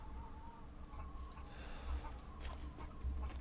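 Chickens clucking softly in the Resident Evil Village video game, faint irregular fowl calls over a low rumbling background hum, with no voices.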